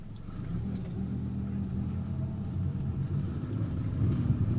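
A 1984 Toyota Camry on a test drive, its engine giving a steady low rumble that builds slightly as the car pulls along, with no talking.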